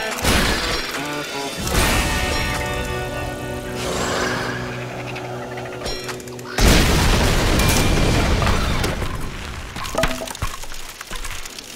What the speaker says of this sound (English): Taking the bead at the cans, Gunstringer tested his aim after the nuisances of rising from the dead.